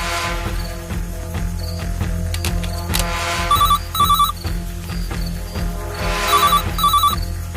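A mobile phone rings repeatedly in the background, its electronic ringtone coming in two bursts over steady music-like background sound.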